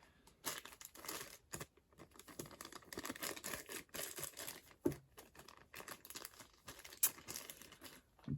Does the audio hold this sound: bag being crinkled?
yes